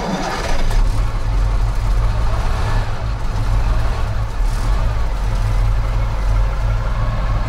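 A KamAZ 4310 military truck diesel engine turns over and catches in freezing cold, settling into a loud, steady, deep rumbling idle that runs continuously without pause.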